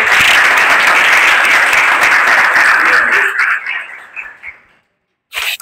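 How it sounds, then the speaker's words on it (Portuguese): An audience claps for Matheus in a brisk, fairly close round of applause that tapers off after about four seconds, followed by silence and a brief voice. "uma salva de palmas aí para o Matheus"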